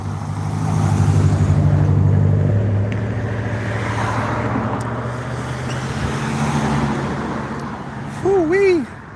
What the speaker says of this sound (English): just cars rolling by